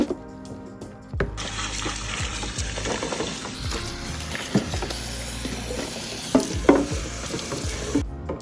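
Kitchen containers being washed in a sink under a steady stream of running tap water, with occasional clinks and splashes over a constant rush that cuts off near the end.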